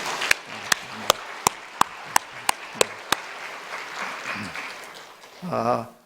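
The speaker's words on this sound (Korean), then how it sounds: "한번 박수라도 하는 게 좋을 것 같아요. 한번 박수해 볼까요?" In a church during a Sunday service, sharp isolated claps ring out in a regular beat, about nine in a row, followed by quieter murmuring and a voice speaking near the end.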